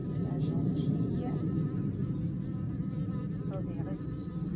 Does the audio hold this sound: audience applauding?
no